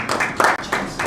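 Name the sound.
audience applause for Kamaru Usman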